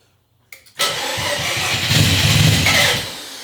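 A Mazda FC RX-7 rotary engine, abandoned and on a weak battery, cranks with a couple of short turns, then catches and revs loudly, running rough and steady before tapering off.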